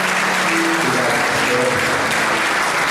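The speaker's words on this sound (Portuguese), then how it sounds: "Vamos aplaudir ao Senhor pela vida de seus irmãos." A church congregation at a missionary worship service claps together, a dense burst of applause that fills the space, with some tonal sound running faintly beneath.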